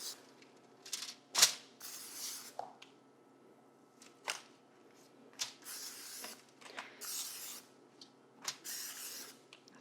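Cooking spray misted onto cut tortillas in a home kitchen, sounding as repeated short, sharp hissing bursts with soft handling and rustling noises between them. The spraying is close and fairly quiet, with no one talking.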